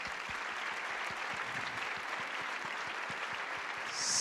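Applause for two young tech entrepreneurs at a panel event, a dense, steady wash of clapping from an audience that stays even throughout and swells slightly at the end.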